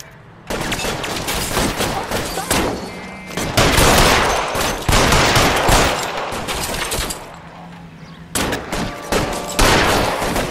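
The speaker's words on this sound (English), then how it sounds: "Fire a warning round." Sustained bursts of gunfire ring out in L.A. Noire, with long dense volleys of rapid shots broken by brief pauses, loud and close.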